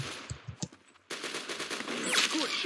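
Gunfire in a first-person shooter during sniper trick shots: a few sharp, quiet cracks in the first second, then a softer sustained noisy wash of game sound.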